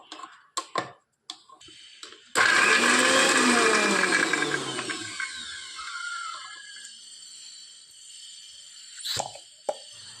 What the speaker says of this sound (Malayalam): അതിനായിട്ട് നമുക്കിതൊരു മിക്സിയിലേക്ക് മാറ്റി ഒന്ന് ചതച്ചെടുക്കാം